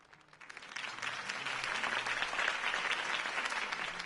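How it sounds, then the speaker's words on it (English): Crowd applause at a political campaign speech in Batman: The Telltale Series swells up from quiet and holds steady, a broad wash of many hands clapping at moderate distance. "If only Mr. Wayne, my campaign's largest backer, could have heard that applause"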